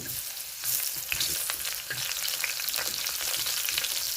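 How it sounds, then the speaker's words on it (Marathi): Cumin and mustard seeds fry in hot oil on a griddle for a Maharashtrian besan dish, a steady close sizzle with scattered crackling pops running throughout, no voices. "जिरे मोहरी चांगली तळून घेते"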